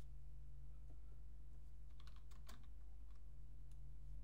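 A few keystrokes on a computer keyboard enter the su command to switch to root, faint irregular clicks clustering midway over a constant low electrical hum, no voices.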